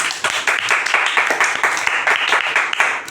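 Children clap together on request at a kids' club Bible story session, a steady, fairly close burst of rhythmic clapping lasting a few seconds.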